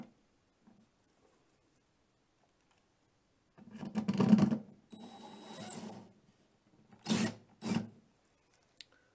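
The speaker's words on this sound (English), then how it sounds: "Be careful when you're using an electric screwdriver not to over torque." An electric screwdriver drives a moisture sensor into drywall in two short, close whirring bursts with grinding rasp, separated by near silence.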